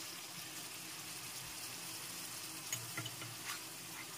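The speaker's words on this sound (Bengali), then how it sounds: "এখন একটু নেড়ে চেড়ে নিতে হবে।" Quiet stirring of tomato puree with ginger and green chili paste in a pan for vegetarian alur dum, soft low sizzling with a few light scraping clicks near the end.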